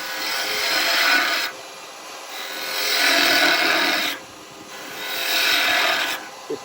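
Wood spinning on a lathe is cut with an 8mm spindle tool: three sustained scraping, rasping slicing passes, each lasting a second or two and separated by short quieter gaps, heard close up.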